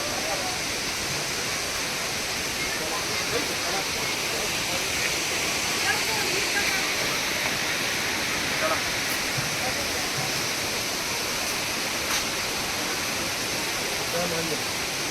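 Tirathgarh waterfall in Jagdalpur, Bastar: a constant dense roar of falling water, steady and even for the whole stretch, with a voice faintly present beneath it.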